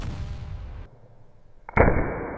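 Anti-aircraft gunfire during battle: a rumbling burst fades out, followed by a quiet gap, then a sharp loud crack that leaves a sustained roar, all near and without talk.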